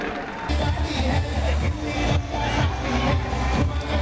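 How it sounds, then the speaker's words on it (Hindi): Crowd applause and cheering fill an indoor stadium at a Chhattisgarh state-level Olympics award ceremony in Raipur, a steady loud wash of clapping and hubbub with voices mixed in throughout. "तालियां बजती रहनी चाहिए, जोरदार तालियां।"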